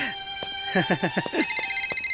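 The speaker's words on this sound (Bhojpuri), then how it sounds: "फोन उठा" A short electronic telephone ringtone chirps in rapid repeated pulses after a burst of shouting in a Bhojpuri film scene, ringing close and fairly loud.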